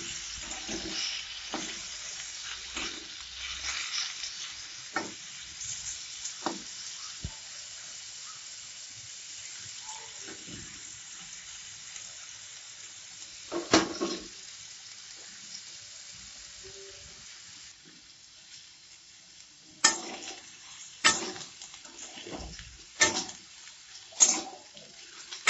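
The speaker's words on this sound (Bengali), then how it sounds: "কলাটা ভাজা হয়ে গিয়েছে, এবার এটাকে আমি তুলে নিচ্ছি।" Half-boiled green banana fries in hot oil in a wok, a low continuous hiss of sizzling broken by occasional louder clatters and bursts as the pieces are stirred and turned.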